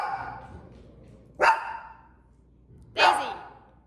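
A dog barks twice, sharp and loud, with a pause between the barks, and a faint earlier yelp at the start.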